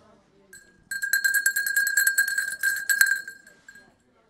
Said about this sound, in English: Do you want to do the bell?